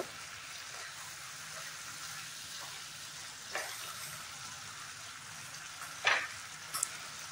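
Matar paneer and cauliflower curry sizzling in a pan as salt goes in and it is stirred, a steady low frying hiss with a few sharper scrapes and clinks near the end.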